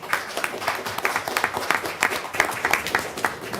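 An audience at a borough council meeting applauds for a few seconds, a dense, steady patter of many hands clapping at moderate volume, close and continuous.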